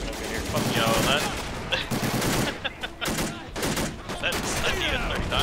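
Rapid bursts of gunfire in a World War II–style war video game, American forces against the Axis, crackling continuously and loud with heavy overlapping shots and brief lulls.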